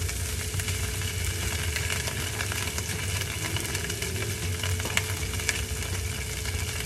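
Salmon fillet seasoned with salt and pepper sizzles skin side down in a hot pan, a steady dense frying hiss running the whole time with faint pops and crackles over it.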